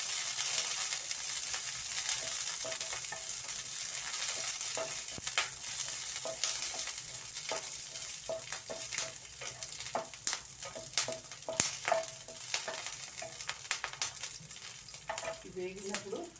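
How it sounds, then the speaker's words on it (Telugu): Chopped red chillies and green chillies frying in hot oil, giving a continuous soft sizzle with scattered crackles and the light clatter of stirring near the end. "ఆయిల్ వేసి మిరపకాయ ముక్కలు, పచ్చిమిర్చి"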